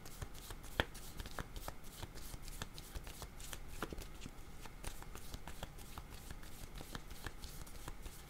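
Tarot cards are shuffled close up in a quiet room, a steady run of soft riffling and flicking clicks that continues for several seconds with no voice.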